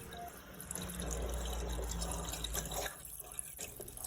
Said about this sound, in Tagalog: Iikot-ikot lang dyan ng tubig once na masaksak na natin ay automatic na yan gagana.